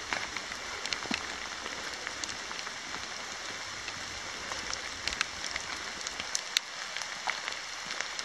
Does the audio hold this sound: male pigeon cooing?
no